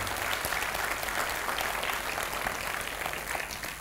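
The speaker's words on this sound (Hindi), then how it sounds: "उनके लिए एक बार जोरदार तालियां होनी चाहिए।" Loud, dense applause from a crowd at a fiftieth birthday event honoring doctors in the audience, a continuous roar of clapping holding steady for a few seconds before easing slightly.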